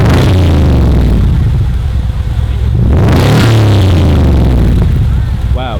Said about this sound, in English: Wow, that actually sounds scary, and that wasn't even a quarter tap